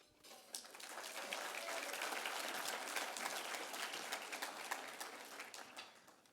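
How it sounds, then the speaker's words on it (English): At a fundraising breakfast for justice, the audience applauds table captains and virtual fundraising captains, a soft, distant round of crowd clapping that swells, holds steadily and then fades away. "So a big round of applause for our table captains and our virtual fundraising captains"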